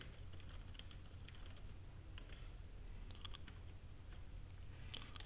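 Code is typed on a computer keyboard, with soft, quiet, scattered keystroke clicks in uneven bursts over a low steady hum.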